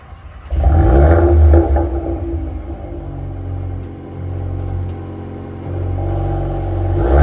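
Exhaust of a 2025 Volkswagen Golf R under acceleration, a loud deep rumble swelling as the engine revs, then settling into a steady drone with a second rise near the end.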